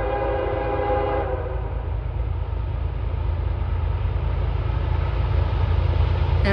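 Freight train M409, running from Selkirk to Waycross, Georgia, sounds a loud sustained horn chord at Hannacroix that cuts off after about a second, leaving a heavy rolling rumble of passing railcars that continues to the end.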